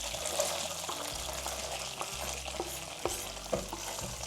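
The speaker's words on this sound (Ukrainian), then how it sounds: "прямо в сковорідку, на цю саму олію, на той жирок, який вийшов з нашої печінки, додаємо цибулю і моркву" Onion and carrot frying in rendered liver fat in a pan, a continuous close sizzle broken by several sharp clicks as the vegetables are stirred.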